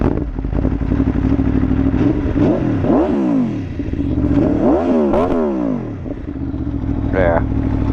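A motorcycle engine revs up and down repeatedly, loud and close, its exhaust note rising and falling in several swells.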